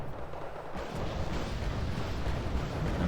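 Mortar shells landing in a war strategy video game: a low rumbling roar of impacts and dull distant booms that swells and carries on continuously without clear separate hits, with no talking.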